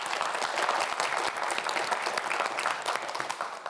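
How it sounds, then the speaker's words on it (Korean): A studio audience at a televised student quiz show claps in a lively, continuous round of applause, dense and fairly close, with no voices on top. "자, 박수 한번 보내주세요."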